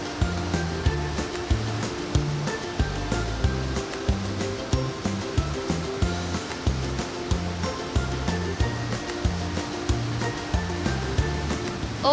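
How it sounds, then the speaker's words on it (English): A waterfall gushes beside a river at Nongkhnum, Meghalaya, a steady broad rush of water under rhythmic background music. "one can see the beautiful waterfall gushing down"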